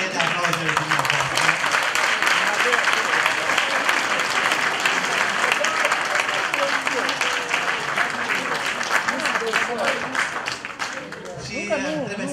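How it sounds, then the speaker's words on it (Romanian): A hall audience at a Romanian song gala gives sustained, dense applause that holds steady for most of the stretch before thinning out toward the end, with a voice briefly audible as it fades. "Acești tineri au nevoie de aplauze."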